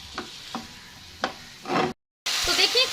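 Chicken pieces frying in a generous amount of oil, a continuous sizzle with a few distinct spatula scrapes and a brief burst of stirring, then a short silent gap before the loud frying resumes, close up with no talk.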